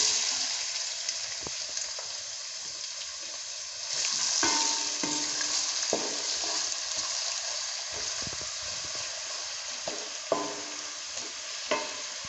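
Onions fry in hot oil in a cooking pot, a dense continuous sizzle punctuated by occasional clinks and stirring knocks, close and without speech.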